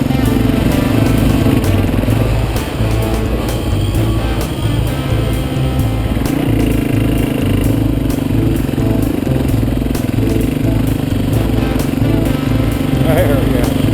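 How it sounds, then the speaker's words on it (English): A Kubota utility vehicle grinds slowly up a hill on a Kentucky mountain trail, its engine droning loud and steady close by for the whole stretch, with rattling from the ride underneath. "this Kubota isn't going to go very fast up this hill"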